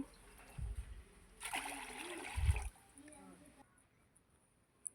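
Pounded sorghum grains are washed in water, with two short sloshing splashes and a longer swish of water in between, close and moderately loud against a quiet background with some faint voice.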